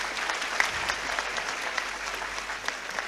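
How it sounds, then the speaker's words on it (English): An audience in a hall applauds a speaker, a dense, even wash of many hands clapping together at moderate loudness, a few sharper claps standing out. "can we have a big round of applause for Mr."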